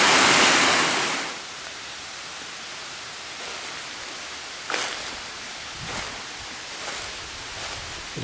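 Steady rushing water of a rocky creek in West Virginia flows continuously, a broad close hiss, louder at the start and then settling into a constant wash.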